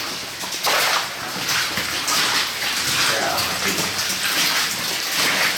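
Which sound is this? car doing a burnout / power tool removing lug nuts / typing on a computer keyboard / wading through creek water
wading through creek water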